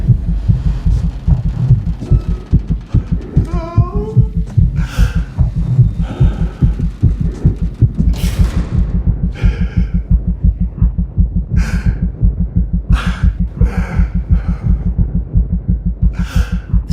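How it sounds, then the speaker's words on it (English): A recorded panicked human heartbeat throbs loud and fast in a continuous, even rhythm, with occasional sharper breathy sounds over it. "The sound of her panicked heartbeat was then used in a final promotion trailer prior to the movie's July 12th release."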